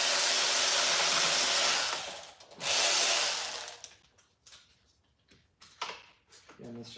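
A power tool unbolting the thermostat on a Ford Fusion Hybrid during a transmission rebuild whirs loudly and close in two long bursts, then cuts out to quieter clanks, ratcheting and handling noise.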